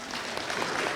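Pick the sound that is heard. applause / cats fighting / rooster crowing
applause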